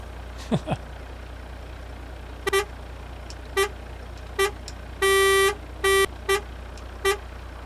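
A truck horn and air horn in a trucking video game sound in a series of short toots, with one longer blast midway and irregular gaps between them, over a low steady engine hum.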